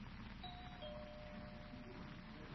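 A faint two-note doorbell chime rings once in a quiet room, thin and distant, with no voices.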